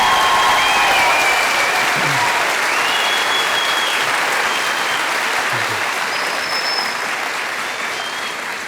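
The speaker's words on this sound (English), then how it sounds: "Can we please give one more round of applause to Dr. Christopher Schmidt on his amazing performances?" Sustained applause from a concert audience after a classical performance at a Beethoven and mariachi concert, a steady dense wash of clapping that fills the whole stretch and slowly eases toward the end.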